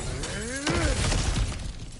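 Cracked ground gives way under a smash in the game God of War Ragnarok, a loud crunching shatter of breaking rock and debris that rattles on briefly before settling, preceded by a short vocal effort.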